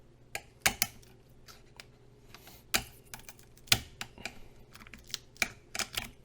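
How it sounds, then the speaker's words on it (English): Rapid, irregular crisp snips and clicks close up as sharp scissors cut through tough lobster claws, some louder than others, with a faint background hiss and no talking. "Let's see if the scissors will do."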